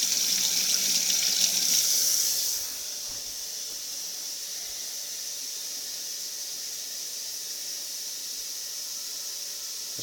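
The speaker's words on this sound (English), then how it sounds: "Make sure that it's properly rinsed off." Tap water pours in a steady hiss as a part is rinsed off, loud for the first couple of seconds, then easing to a quieter, constant flow for the rest.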